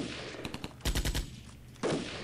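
Assault rifle fire in the Armored Brigade war game, a short scattered volley of shots followed by a tight rapid burst, then a pause and another loud burst, fairly close and with no talk.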